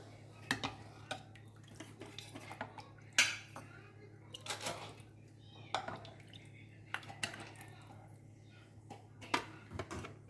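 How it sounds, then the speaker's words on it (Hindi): A spoon clinks and scrapes against a pot while tomato soup with croutons is mixed before serving, a series of sharp metallic taps over a steady low hum, with no talk. "सर्व करने से पहले ना इसको अच्छे से मिक्स करना है"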